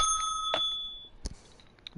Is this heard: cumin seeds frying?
no